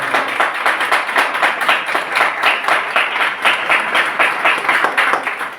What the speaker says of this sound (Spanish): ruego un aplauso para ella